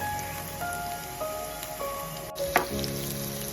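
Chopped onions fry in oil in a pan, giving a steady, fairly quiet sizzle that goes on throughout, with a brief clatter near the end.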